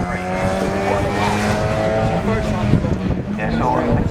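A rally car at the McRae Rally Challenge 2025 drives onto the track, its engine note rising and falling under steady commentary, loud and fairly close.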